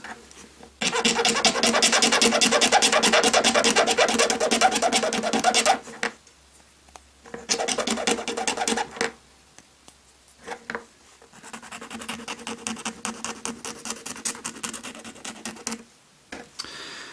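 Trimming and fitting a new plastic piece on a vintage Kenner Star Wars Darth Vader TIE Fighter toy, heard as close, steady rasping and scraping strokes in long bursts separated by short pauses, with no talking.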